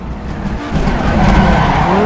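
Tires screech and skid under a loud, revving engine as a video game Audi Quattro rally car without ABS locks its wheels on the Nordschleife in Assetto Corsa, the squeal rising.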